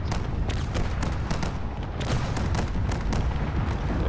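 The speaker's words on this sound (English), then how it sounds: "It's going to be a very large explosion at this rate." A huge explosion from a crashing cruiser in a canyon drone-battle video game, a dense, sustained roar of rumbling blasts and thuds filling the whole stretch, loud and continuous with no talking.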